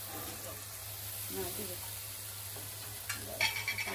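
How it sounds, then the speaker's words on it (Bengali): Spices with cumin powder being stirred and fried in a pan for a pangas fish and tomato curry, a steady sizzle under brief talk with scraping stirs and a louder burst near the end. "ভালোভাবে মশলাটাকে কষিয়ে নেব আর কি"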